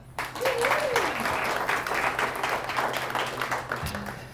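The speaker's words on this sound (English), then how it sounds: "So a round of applause for them" An audience applauds steadily for several seconds, a dense wash of clapping that fades slightly at the end.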